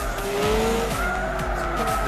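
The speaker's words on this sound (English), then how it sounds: "Slamming on the brake again" Gran Turismo 6 car braking hard into a corner, tires squealing and skidding over a droning engine note that steps down through gears, loud and steady with no voices.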